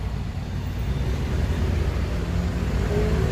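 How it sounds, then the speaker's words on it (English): Steady road traffic drones nearby in Sliema, Malta, a continuous low rumble of passing cars with no talking. "Cars making a lot of noises."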